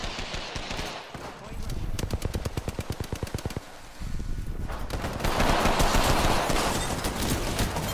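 Hemlok rifle fire in Apex Legends, rapid bursts of close, sharp shots in quick rhythmic strings, broken by brief pauses, with the clatter of other weapons and game effects filling the background.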